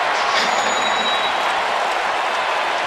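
A baseball crowd in Arizona cheering a strikeout, a broad steady roar of cheers and applause held at high volume for the whole stretch without a break.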